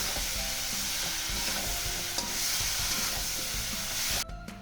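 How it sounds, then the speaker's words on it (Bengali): Drumstick stems being sautéed and stirred with a mustard-poppy seed paste and turmeric in a pan for a vegetarian chochhori, a steady close sizzle with stirring scrapes that cuts off abruptly near the end. "এবার আমি মশলার সাথে ডাঁটাকে কষিয়ে নেব।"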